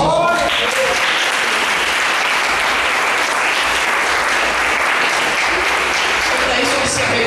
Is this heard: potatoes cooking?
no